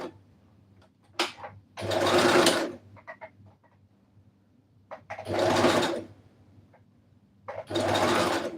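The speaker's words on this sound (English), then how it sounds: "just sew in the ditch" A sewing machine stitches a blouse along the ditch in three separate runs of steady, rapid whirring, with quieter handling clicks in the pauses between them.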